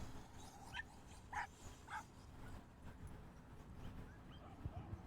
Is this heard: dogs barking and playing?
yes